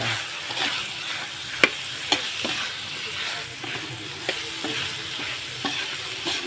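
Flaked leftover galunggong fish is sautéed in a pan with a steady sizzle, punctuated by occasional sharp clicks of a utensil stirring and scraping against the metal.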